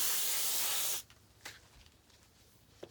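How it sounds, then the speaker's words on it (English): A spray can blasts grease onto a flex shaft for one steady, loud hissing burst that cuts off after about a second, followed by quiet handling noises and a faint click. "I'm going to give it one more spray, although I know I'm using way more."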